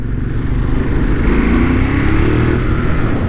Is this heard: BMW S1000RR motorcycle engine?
yes